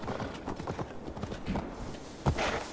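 Steady clip-clop of horse hooves from the video game Assassin's Creed Valhalla, trotting at a brisk, even rhythm, fairly close, with a muffled thump near the end.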